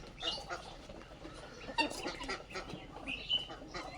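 Pigeons at a loft give soft, scattered coos and fluttery calls at moderate distance, faint and irregular against a low background.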